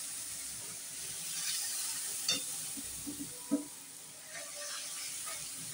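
Spice paste fries in leftover fish oil with cumin and radhuni seeds, giving off a faint, steady sizzle and hiss broken by a few soft stirring knocks. Quiet throughout, with no talking.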